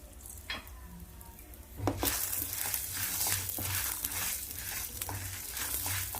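Red chilies and urad dal fry in a pan with a soft sizzle that thickens into a busy crackle after a moment, broken by stirring scrapes, close and moderately quiet.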